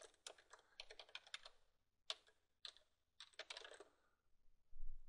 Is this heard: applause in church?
no